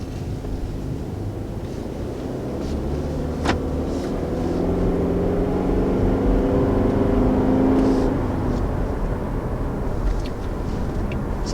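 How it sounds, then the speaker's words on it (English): A 2019 Subaru Forester pulls away from a stop, its engine note rising steadily over several seconds under wind and road rumble, heard from inside the cabin before settling back. "So first taking off in the 2019 Forester, power feels pretty good right off the line."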